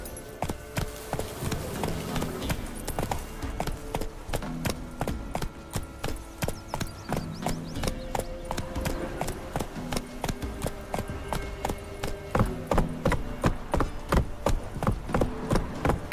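Hoofbeats from Roach, the horse in Witcher 3, pound in a rapid, regular galloping rhythm, loud and continuous, with game music and ambience layered underneath.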